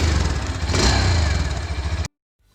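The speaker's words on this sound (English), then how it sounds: "Let's hear it's breathing out." A 160cc Indian commuter motorcycle, one of the Pulsar NS160, Apache 160 4V or Xtreme 160, revs loudly and steadily up close for about two seconds and then cuts to sudden silence.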